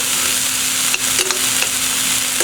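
Squash, zucchini and coleslaw sauté in a pan with a steady sizzle, broken by a few short clinks and scrapes of stirring.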